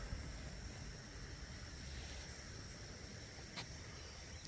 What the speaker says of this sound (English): The river is flowing from our right to our left